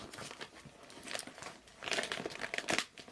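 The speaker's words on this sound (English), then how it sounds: "I do apologise about the rustling" Paper rustling and crinkling up close while someone searches through cross stitch pattern sheets, in irregular bursts that grow busier toward the end, with no talking.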